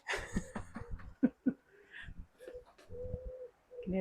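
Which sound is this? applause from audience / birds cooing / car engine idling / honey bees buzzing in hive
birds cooing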